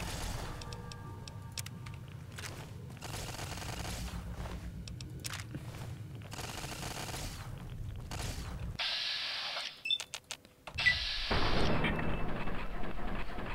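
Gunfire aimed at a turret in a Mojave-set video game rattles on in dense, rapid mechanical bursts, then breaks into a few sharp, separate shots before the firing resumes loud near the end.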